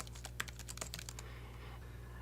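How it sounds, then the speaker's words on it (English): Typing on a computer keyboard while entering text in the vi editor on Linux: a quick run of close, light key taps over a low hum, then a quiet pause. "So now I can start typing anything in this file."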